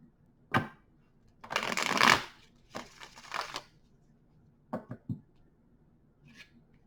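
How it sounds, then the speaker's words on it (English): Cards are shuffled several times in short riffling bursts separated by pauses, close and crisp in a quiet room. "I'm going to give them a couple more shuffles"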